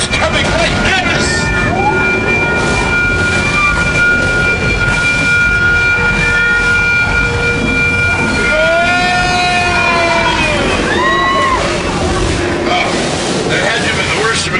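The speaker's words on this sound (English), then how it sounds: "I hear a subway train. It's coming right at us." Simulated subway train approaching on a Universal Studios Hollywood theme park ride, a loud rumbling roar with screeching, siren-like whistling tones rising toward the middle, while people talk and shout over it.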